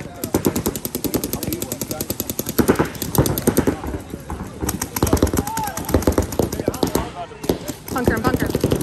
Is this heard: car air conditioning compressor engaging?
no